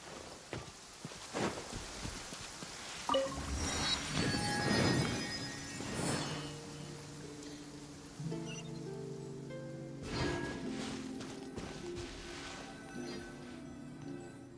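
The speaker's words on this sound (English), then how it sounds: "It's raining?" Rain falls in Genshin Impact, a soft steady patter with light rustling and occasional chinks, layered under game music that swells and shifts midway.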